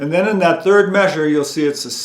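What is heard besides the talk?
No distinct noise like a dog, phone or traffic.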